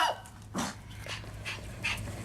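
A dog pants in quick, breathy bursts at close range, with faint whimpering sounds mixed in.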